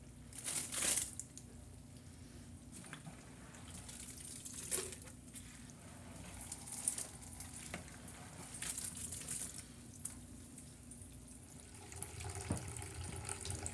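Homemade red wine juice pours and trickles through a wine press and its initial filter, a faint continuous wet flow with occasional soft crinkling and splashes, no voices.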